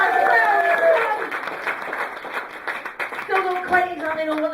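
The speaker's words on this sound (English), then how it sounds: "Give yourselves a bit of applause" Applause and clapping from an audience fill the room, mixed with overlapping talk, fading slightly midway before voices rise again.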